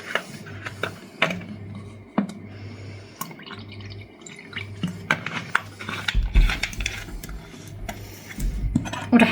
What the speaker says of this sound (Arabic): رح احط لها شوي كولا سودا